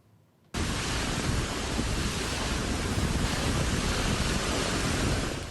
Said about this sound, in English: blasting it with heavy rain and 350-kilometer-an-hour gusts